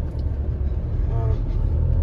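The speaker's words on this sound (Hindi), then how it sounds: "तो यहाँ पे थोड़े बहुत ट्रैफिक है" Steady low rumble of road traffic on a city street, cars passing continuously with no single vehicle standing out.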